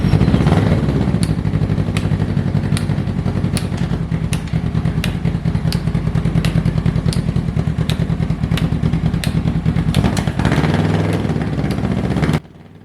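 A Kawasaki Ninja 650 motorcycle engine running close by, a loud steady idle with rhythmic mechanical clatter and regular ticking pulses, cutting off abruptly at the end.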